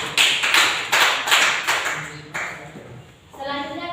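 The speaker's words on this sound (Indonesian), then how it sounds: "berikan aplaus untuk Sofina" A classroom of students claps for a classmate in a school lesson, a short run of rhythmic, fairly loud hand claps that fades out, with a voice briefly heard at the end.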